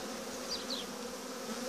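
Honeybees buzz steadily throughout a spring hive inspection, with a continuous close drone filling the frame as combs with healthy brood are handled.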